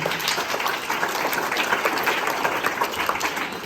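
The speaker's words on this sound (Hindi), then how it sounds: "एक बार जोरदार तालियां यहाँ की स्टाफ को देते हैं।" A crowd at a ceremony at an international sports school applauds the school staff with loud, dense clapping. The clapping holds steady through the whole stretch with no talk over it.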